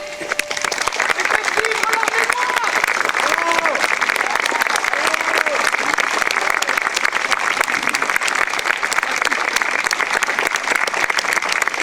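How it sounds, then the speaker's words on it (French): Audience applause fills a French evening night-watchman event in Rambervillers, a dense, steady crowd clapping that holds loud and even for the whole stretch, with faint voices underneath. "Applaudissez-les."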